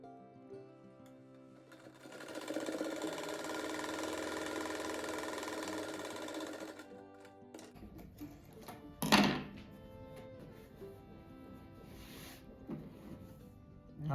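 Sewing machine stitching patchwork tulip pieces for a rug, running in one steady, close burst of several seconds, then stopping, followed by a few sharp handling knocks and clicks.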